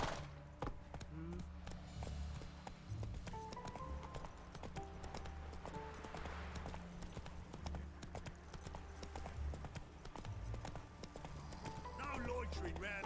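Hooves clip-clop steadily from a ridden horse in The Witcher 3, an unbroken walking rhythm with a brief whinny, under continuous game ambience and music, with voices talking at times.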